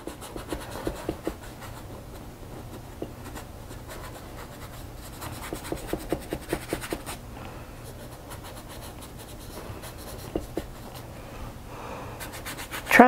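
A brush lightly scrubbing acrylic paint onto a pot makes soft, close, intermittent scratchy strokes in short rhythmic bursts over quiet background.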